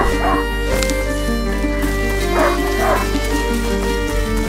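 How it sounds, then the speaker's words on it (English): A hunting dog in the video game A Plague Tale: Innocence barks and yips several times over a steady game soundtrack, close and clear, with brief whimpering between barks. "A hunting dog is not supposed to lose its hunter."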